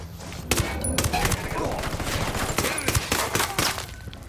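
Rapid gunfire from the video game Ghost Recon Wildlands, dense overlapping bursts of shots and automatic fire crackling steadily throughout, loud and close with brief voices mixed in.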